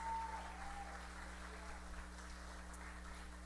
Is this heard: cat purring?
no